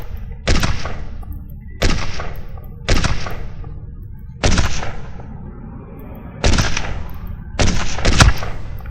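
Six loud sniper rifle shots in the mobile game Sniper 3D, each a sharp boom with a decaying tail, spaced about a second apart with the last two close together.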